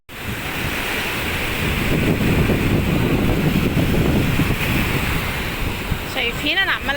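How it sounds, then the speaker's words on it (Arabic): Sea waves wash continuously onto a beach, a loud, steady roar of surf mixed with wind buffeting the microphone, with a brief high whistle-like sound near the end. "شايفين انا عمالة اسمعكم بس صوت البحر ازاي"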